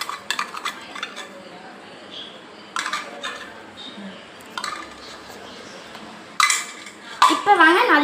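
Soya chunks are mixed with ginger garlic paste in a pan, a spoon scraping and clinking against the metal in short bursts with quiet gaps between, close up, ending in louder clattering strokes.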